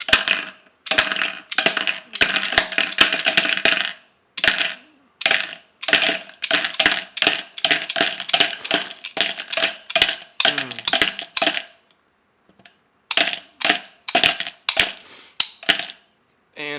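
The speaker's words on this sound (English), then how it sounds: "let's go ahead and unload these magazines because I do not want any negligent discharges" Rounds are thumbed out of firearm magazines one after another, each cartridge dropping with a close, sharp metallic clink in quick irregular bursts, with short pauses between magazines and no talk.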